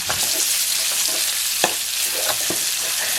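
Chili and garlic stir-fry in a pan with a bright, steady sizzle, punctuated by a few sharp spatula taps, close and loud without any voices.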